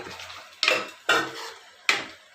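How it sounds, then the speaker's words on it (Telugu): A spoon scrapes and clatters against a pan three times as paneer is stirred into a thick shahi paneer masala, each stroke a crisp metallic scrape fading quickly, with no talk. "ఇప్పుడు పన్నీర్ వేసేసి మొత్తం ఒకసారి కలపాలి"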